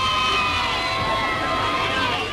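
Crowds line the streets in a Scottish border town during a royal tour, cheering the passing royal cars in a steady, continuous roar that sounds somewhat distant and washed.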